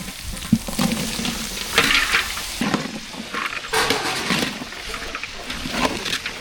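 Snake gourd, onions and green chillies fry in hot oil, a crackling sizzle broken by irregular scraping bursts of stirring, close and fairly loud with no talking.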